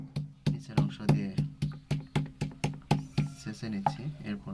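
Regular dull thumps of fresh henna leaves being pounded on a shil-pata stone slab, about fourteen evenly spaced heavy knocks heard up close, with no talking.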